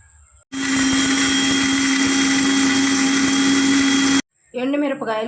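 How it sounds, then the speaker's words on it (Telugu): A kitchen mixer grinder whirs loudly and steadily for several seconds, powdering fenugreek, cumin and coriander seeds, then stops abruptly, with a voice speaking briefly before and after. "మెంతులు, జీలకర్ర, ధనియాలు ఈ విధంగా పౌడర్ చేసుకోవాలి మిక్సీలో."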